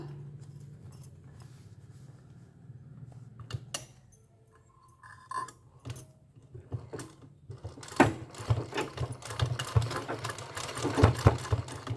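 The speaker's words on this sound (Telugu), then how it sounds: "నేనైతే చాలా జాగ్రత్తగా కుడుతూ ఉంటానండి." A sewing machine stitches a cloth purse, running in short stop-start bursts of fast mechanical chatter over a steady low motor hum, growing busier and louder in the second half, with no voices.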